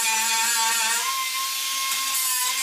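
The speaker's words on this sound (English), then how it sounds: "so I'm just grinding that down" A grinder works down protruding metal on a 1979 Chevrolet El Camino body, a steady high-pitched whine with a sustained tone running continuously and fairly loud, no talk.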